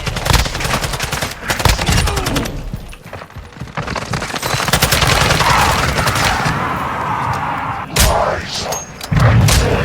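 Dense gunfire and explosive booms in Modern Warfare II / Warzone 2.0 during a boss fight, loud bursts and sharp cracks layered over a continuous roar, with a brief lull midway before firing resumes.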